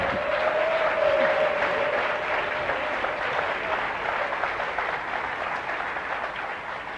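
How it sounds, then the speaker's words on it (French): A large audience of leaders at a leadership talk claps together in sustained, dense applause that stays steady for several seconds, with a brief raised voice or cheer near the start. "applaudissez, vous les leaders"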